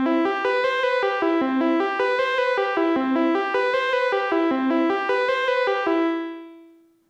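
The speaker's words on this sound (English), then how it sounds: "Okay, let's move on to the Abbey Road chambers. The preset used here is under Ben Fowler, under his presets called Piano Chamber." A piano-like instrument plays a steady run of notes through an Abbey Road Chambers reverb plugin on its Piano Chamber preset, the chamber tail ringing on alone and fading out after the last note.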